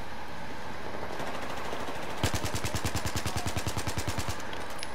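A fast automatic burst rips out in Battlefield 4, about twenty evenly spaced loud shots in quick rhythm after a quieter stretch of background game noise, with no talking.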